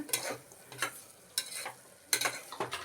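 Fried paneer being stirred into pulao in a pot, a ladle scraping and turning the rice in four or five distinct strokes with light sizzling between them, close and clear with no talking.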